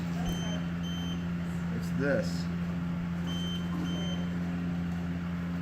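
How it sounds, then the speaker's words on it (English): Short, high electronic beeps repeat at intervals over a steady mechanical hum during a high-altitude balloon flight, with a brief spoken remark partway through. "What's beeping? Are we about to lose a battery on something?"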